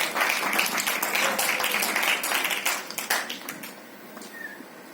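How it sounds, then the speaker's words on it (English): An audience claps at a movie trailer launch event, dense applause that thins out and fades over the last seconds. "Big round of applause for our producers."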